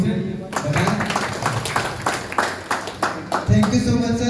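An audience claps in a burst of applause at an event, irregular claps that swell and fade, mixed with a voice and crowd murmur throughout.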